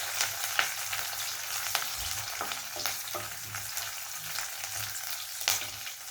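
Dried red chillies and curry leaves sauté in a pan with a quiet, crackling sizzle. Scattered pops and stirring scrapes run throughout, and no one speaks.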